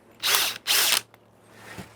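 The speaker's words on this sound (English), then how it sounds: "So that was a 6 mil drill, and I'm going to a 5 mil drill" A power drill fitted with a 5 mm bit cleans debris out of bolt holes during a rudder conversion, giving two close, loud whirring bursts of about a third of a second each, then a quieter mechanical rattle.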